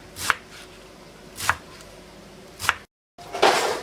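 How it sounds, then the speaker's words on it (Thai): Three sharp knife chops land on a cutting board about a second apart, followed by a brief gap and a scraping, rustling sweep. "หั่นให้ละเอียดหน่อยนึงนะเวลาลงใน ไข่แล้วมันจะแบบ กรุบๆพอดีนะคะ"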